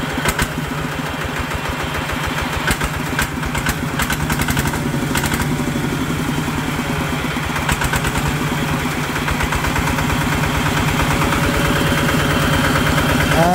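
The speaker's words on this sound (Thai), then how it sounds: "คุณพี่จะติดลองสตาร์ทให้ดูครับผม" A Kubota RT155 tractor engine turns over and settles into a steady, loud diesel idle, its rapid rhythmic chugging continuous and close throughout.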